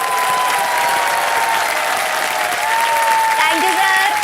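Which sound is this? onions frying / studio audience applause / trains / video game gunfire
studio audience applause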